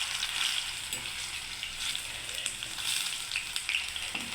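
Jackfruit fritters (bora) frying in hot oil, a steady close crackling sizzle with small popping bursts throughout, no talking.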